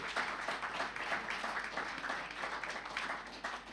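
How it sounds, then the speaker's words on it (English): A round of applause from the audience at a public forum, moderately quiet clapping with an uneven, pulsing texture of fewer hands, continuing steadily without speech. "Could you give them a round of applause?"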